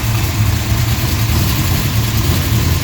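Carbureted-style V8 engine fitted with an Edelbrock Pro-Flo 4 EFI on a DCI Motorsports RA5, running steadily after an ice-cold start, with a loud, continuous low rumble throughout and slight surges of revving.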